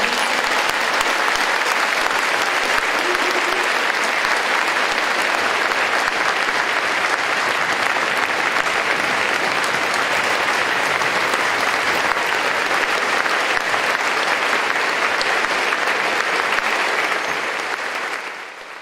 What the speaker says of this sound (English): Let's give a well-deserved round of applause to these men and women.